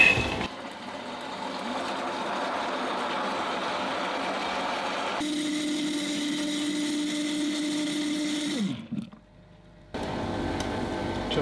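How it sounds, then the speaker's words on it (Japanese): A blender whirs loudly mixing kombu water, changes speed partway through, cuts off briefly, then starts up again. "昆布水で少し攪拌していきます。"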